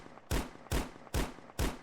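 Machine gun fire from the mobile mech-combat game Mech Assemble, heard as four evenly spaced, loud bursts with a blunt, heavy attack and no talk.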